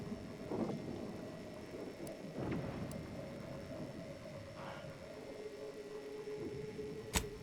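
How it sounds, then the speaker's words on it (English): Thunder and lightning strikes in the Outer Worlds 2 game: several sharp cracks and rumbling booms scattered over steady rain-like background noise, with a loud close strike near the end. "the lightning that illuminates the sky and scorches the ground without pause or penance"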